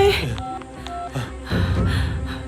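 A phone keypad sounds a short run of dialing tones while a caller rings the police emergency number 100, a few clear beeps followed by muffled background noise.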